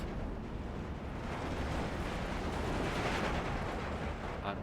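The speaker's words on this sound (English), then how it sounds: "I brought in some artillery myself, a counter battery, although it's not doing a lot at the moment" Artillery barrages from the Steel Division 2 war game rumble as a dense, continuous roar of overlapping explosions, loud and steady throughout with no speech.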